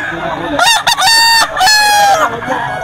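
Gamecocks at a rooster sale crow loudly and close by, two or three long overlapping cock-a-doodle-doo calls in quick succession, with some clucking and faint background chatter.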